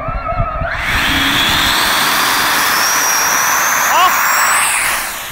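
A homemade flying model of the Three-Body 'water drop' probe takes off. A loud, close, high-pitched motor whine surges up and holds steady after a short spoken word and some handling noise.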